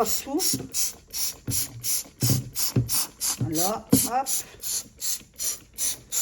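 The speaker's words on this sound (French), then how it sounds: "je prends mon spray Javel et je mets de partout" A household spray bottle of bleach is pumped repeatedly while cleaning, giving about a dozen sharp, close hissing bursts in a fairly even rhythm, with someone briefly speaking between sprays.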